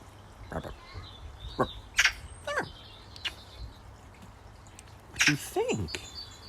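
A crow gives several short caws and croaks, some close and sharp, scattered among quiet pauses and soft background noise.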